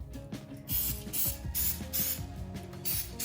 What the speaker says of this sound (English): just spray the dry parts